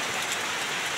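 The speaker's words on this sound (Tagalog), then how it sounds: "ang lakas na ulan dito sa taas" Heavy rain pours on a mountaintop at Mount Makiling, a dense, even hiss of drops striking surfaces close by, continuous and loud with no voices.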